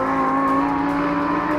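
A Lamborghini Huracan STO's engine on the racetrack at the Buddh International Circuit, sounding as a loud, sustained, tonal howl at high revs that holds steady throughout.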